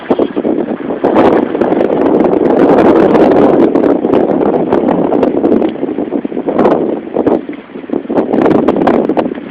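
Wind buffeting the microphone at an outdoor dog park, a loud, continuous low roar with gusty swells and crackling rustles, no talk over it.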